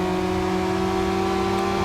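A Pagani Utopia and other sports cars race in a driving game, engines whining at high revs in a steady, sustained drone with a constant tonal pitch and no talking.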